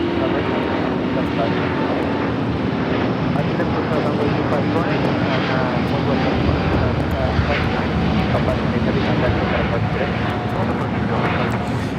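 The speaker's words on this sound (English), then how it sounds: "528 taking off to Atlanta on the A350-900" A Delta Air Lines Airbus A350-900 takes off from LAX bound for Atlanta, its engines producing a loud, continuous, close roar with a steady rumble throughout, and voices faintly audible beneath it.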